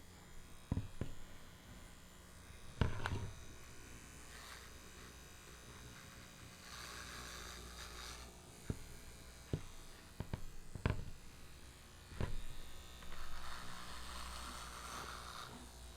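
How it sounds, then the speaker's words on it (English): An electric razor buzzes through a shave, a low steady hum with brief louder strokes and scraping bursts, close by and fairly quiet, with no talk. "This is how everyone should shave."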